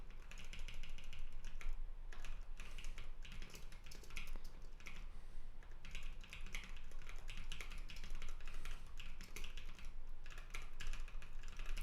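Computer keyboard typing during live Rust programming, a close, quiet run of rapid clicky keystrokes in irregular bursts with brief pauses, no talk.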